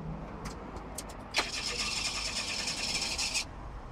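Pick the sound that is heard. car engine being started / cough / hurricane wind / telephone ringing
car engine being started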